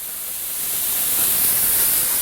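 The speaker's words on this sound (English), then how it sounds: "you can hear the sizzle from the juice, so you know you're cooking" A steady hissing sizzle rises and swells as marinade juice is spritzed onto meat in a smoker pit, a bright crackling spray of noise with no voices.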